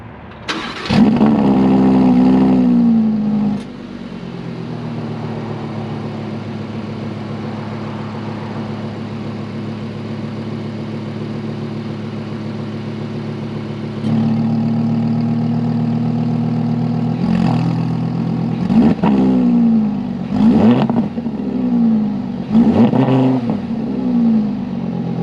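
A stock Audi R8 V10 fires up with a loud starter bark and roar, settles into a steady idle, then is revved in several short blips capped around 3,000 rpm, close and clear with no talk.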